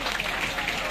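Audience at a youth meet clapping, a steady patter of many hands at moderate volume that continues evenly throughout.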